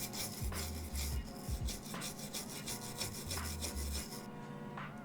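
Brisk rubbing and scrubbing on the buttons of a Game Boy during cleaning, a close, repeated rasping friction in quick strokes with short pauses and no talk.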